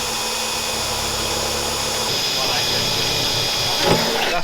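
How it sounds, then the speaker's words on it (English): A power drill bores holes into the boot lid of a Mk2 Ford Escort Mexico during a rebuild, a steady close whirring drone with a brief harder bite near the end. "That's all 4 of the holes drilled out."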